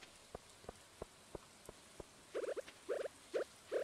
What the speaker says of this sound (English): It's raining so bad all the time.